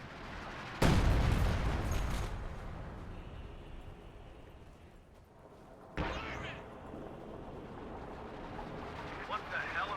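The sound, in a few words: artillery barrage in a World War II strategy video game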